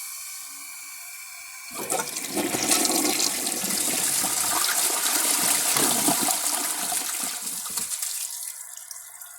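A Kohler Wellworth toilet flushes close by: a sudden loud rush of water that roars steadily for about six seconds, then drops off to a quieter trickle of the tank refilling.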